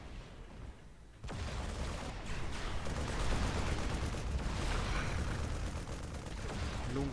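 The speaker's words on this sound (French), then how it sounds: "Ah putain, ils ont de l'artillerie, ces saloperies." Artillery fire in the Dawn of War game as Imperial Guard batteries pound the battlefield, a sudden onset of dense, loud rumbling barrage with overlapping booms and crackling impacts that continues without letup.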